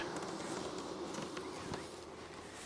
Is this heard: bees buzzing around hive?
yes